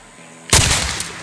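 Gunfire in Days Gone, a single loud close shot bursting out after a quiet moment and decaying with a rumbling tail, no voices.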